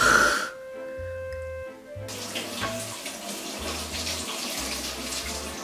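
A kitchen tap runs steadily while a raw chicken is washed before boiling, a continuous close splash of water with a few low murmurs underneath.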